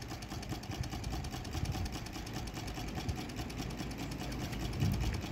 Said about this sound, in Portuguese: O barulho até, o motor tá mais silencioso.